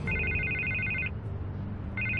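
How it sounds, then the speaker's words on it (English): A telephone rings inside Batman: The Telltale Series, the electronic trill repeating in a long burst, pausing, then starting again over a low ambient game hum, with no talking. "I can't get the phone to stop ringing."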